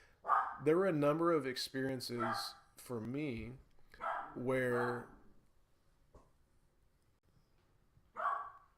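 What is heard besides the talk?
dog barking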